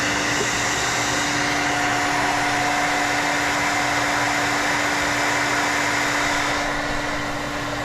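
Hair dryer blowing steadily into a BSA Star Fire 250 motorcycle gas tank to dry it out, a continuous loud whooshing airflow with a constant motor hum throughout.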